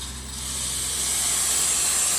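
Steam wand on a La Marzocco espresso machine hisses hard, a steady, loud, powerful rush that builds slightly and holds without pause.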